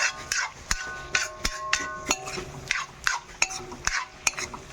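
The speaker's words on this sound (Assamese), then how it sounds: "এতিয়া ধুনীয়াকৈ আকৌ মছলাখিনি পূৰা ভাজিম বঢ়িয়াকৈ" A spoon stirs and scrapes through spice masala frying in a pan with cumin, the first step of a home-cooked meat curry. The sharp clacks come in a quick, uneven rhythm over a faint sizzle.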